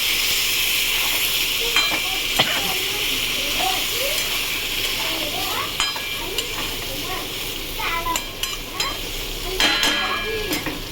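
Ridge gourd frying in a pan over a low gas flame for a vegetarian dish, a steady close hiss of sizzling broken by light stirring clinks, with a voice talking over it.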